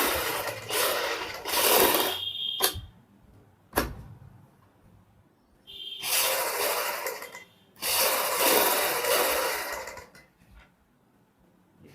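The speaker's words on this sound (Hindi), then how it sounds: "मैं सिलाई लगा लेता हूँ पूरी।" A sewing machine stitches a kurti neck design in bursts of rapid whirring running, several seconds each, separated by quiet pauses and a couple of sharp clicks.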